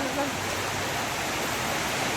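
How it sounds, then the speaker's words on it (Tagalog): Heavy rain pours steadily on a flooding street near a school, making a dense, even roar with no breaks. "ngayon nandito pa kami, napakalakas ng ulan"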